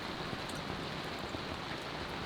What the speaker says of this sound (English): The apocalyptic rain has kind of arrived, but it's not really apocalyptic anymore